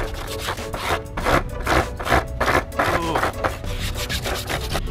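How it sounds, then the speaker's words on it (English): A belt sander cleaner block scraped back and forth over skateboard grip tape, making loud, rough, rhythmic rasping strokes close up, continuous for several seconds with no talk. "This is a belt sander cleaner."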